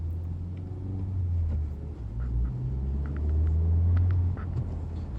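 Honda Civic Type R with a manual gearbox driving, heard from inside as a low, steady engine rumble with road noise that swells slightly as it pulls through a gear, close and continuous.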